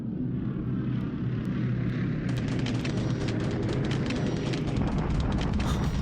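A propeller aircraft flies overhead in the World War II game War in the Pacific with a steady droning engine, and a sharper crackle of flak or gunfire joins in partway through.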